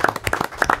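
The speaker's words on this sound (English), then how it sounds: "let's give her a round of applause" A few people at a school board of education meeting clap briefly, a short burst of scattered, uneven handclaps lasting under a second, close and fairly loud.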